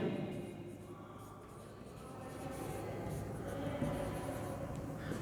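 Pen or chalk writing notes during a science lecture, a faint continuous scratching and rubbing that runs throughout at low volume.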